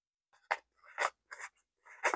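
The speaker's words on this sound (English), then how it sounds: "Write that on here." Pen writing a pattern number by hand on paper, a few short quiet scratching strokes in quick bursts, close up.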